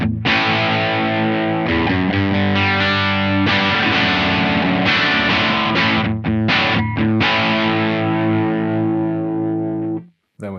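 An electric guitar played through a Blackstar Dept. 10 Dual Drive pedal on its 6L6 tube voicing, thick distorted chords and notes ringing out continuously, loud and close, ending in a brief pause.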